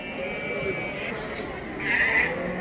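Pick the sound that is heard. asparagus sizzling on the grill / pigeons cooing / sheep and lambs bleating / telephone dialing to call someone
sheep and lambs bleating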